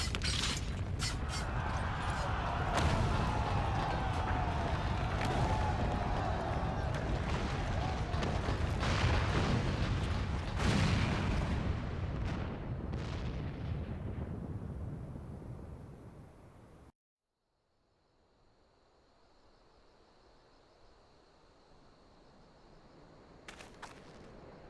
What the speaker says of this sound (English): It must have been the cannon of Castrum Albania